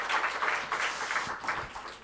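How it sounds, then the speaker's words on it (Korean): A church congregation applauds for a few seconds, a dense, steady patter of many hands clapping at moderate distance with no voices over it. "박수로 격려하겠습니다."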